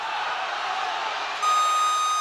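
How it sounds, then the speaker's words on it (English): A basketball shot clock buzzer sounds during the Japan v China final of the 2015 FIBA Asia Women's Championship, cutting in as a loud, sustained tone above a wash of arena crowd noise. "And the shot clock buzzer went."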